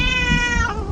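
A large cat gives one drawn-out, strained meow that lasts about a second. It is close and loud over a low rumbling background, with no talk.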